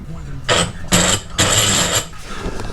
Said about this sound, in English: I'm just forcing that steel bushing out of there